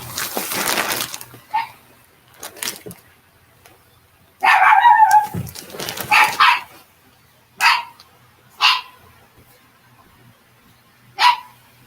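Loud, close dog barking: a rough burst, then a run of sharp single barks spaced about a second apart.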